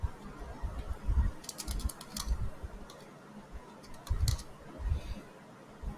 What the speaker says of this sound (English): It's typing too fast.